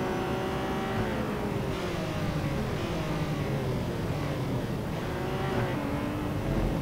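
Formula One race car engine in the Real Racing 3 video game, a loud continuous high-revving whine with rising pitch sweeps as it shifts through gears, dense and unbroken.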